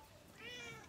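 Rosie the cat gives a single short meow in a garden, moderately close, rising and falling in pitch over a low background murmur.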